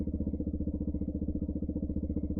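A Suzuki Gixxer 150SF motorcycle fitted with a Yoshimura full exhaust idles close by, its single-cylinder engine giving a steady, loud, even pulsing thump with no talk over it.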